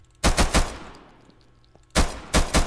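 Gunfire in the video game Minecraft comes in sharp bursts, three rapid shots, a pause, then two more rounds, loud and close against a quiet background.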